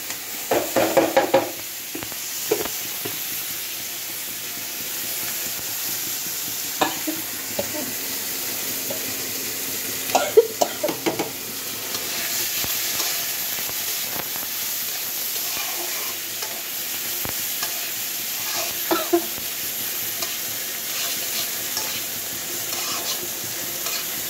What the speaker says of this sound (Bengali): যে আমি তেলের মধ্যে একটু জিরা ফোড়ন দিয়ে দিলাম, আর দিয়ে দেবো একটু পেঁয়াজ কুচানো।